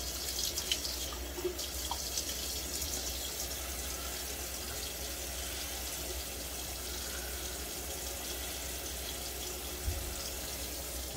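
Hot water pours from a faucet into a sink in an unbroken, even rush of splashing, close and steady for the whole stretch with only faint clicks on top.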